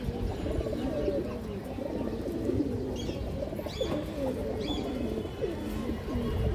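Pigeons, a road-line breed among others, coo in repeated low throaty phrases close by over a steady noisy background, with a few faint higher chirps.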